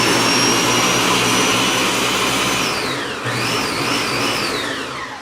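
Ninja 72 oz blender running at full power with a loud, steady, roaring whir and a high whine whose pitch dips and recovers partway through, close by with no speech.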